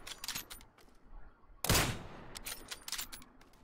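Gunfire from a sniper video game: one sharp, loud shot bursts out mid-way amid lighter scattered clicks and pops of other fire.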